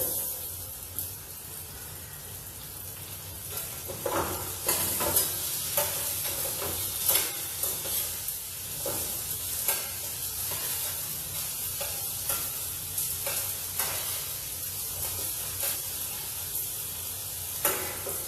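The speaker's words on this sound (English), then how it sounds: "we are going to add the strips of tomato" Strips of tomato sizzle steadily in hot oil in a pan for Kashmiri cooking, with repeated scraping stirs cutting through the constant frying hiss.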